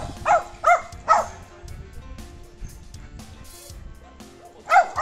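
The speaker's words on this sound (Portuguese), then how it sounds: "já estou usando cães reativos que latam para ela, para incomodar mesmo" Reactive dogs barking during a dog training session, several sharp loud barks in a quick burst at the start, a quieter stretch with faint background sounds, then another close bark at the end.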